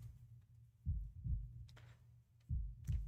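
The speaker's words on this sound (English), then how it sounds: "The world falls into a hushed silence, broken only by the sound of your heartbeats." A heartbeat sound effect from the video game Path to Nowhere thumps in slow, deep paired beats with pauses between them, soft and low over a quiet background.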